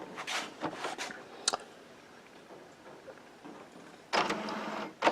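An Epson printer's cartridge carriage slides by hand, giving a few quick clicking and rattling bursts, then a quiet stretch, then another loud burst of mechanical clatter close by.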